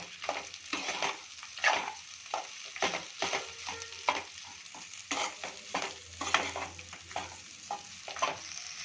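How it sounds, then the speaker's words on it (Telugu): Tamarind pulihora rice being stirred and tossed in a pan, with a steady run of close scraping, rustling stirs and a faint sizzle underneath, no voices. "బాగా నాలుగు పక్కల బాగా కలుపుకోవాలి"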